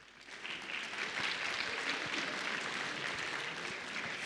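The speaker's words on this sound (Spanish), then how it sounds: "Un fuerte aplauso más para los más pequeños" Applause from a church congregation for a children's choir at a Christmas service, a steady broad wash of many clapping hands that holds at moderate loudness throughout, with no talk over it.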